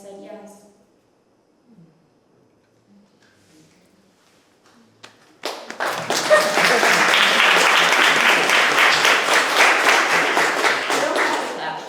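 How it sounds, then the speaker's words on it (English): After a poetry reading, a spoken line gives way to an audience breaking into loud, sustained applause that swells quickly and carries on steadily. "Don't have to clap for it, it's fine."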